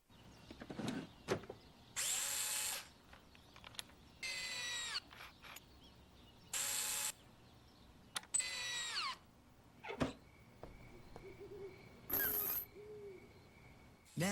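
A Mastercraft power drill whirs in several short, fairly faint bursts of a couple of seconds each, spinning up and stopping in turn with brief quiet gaps.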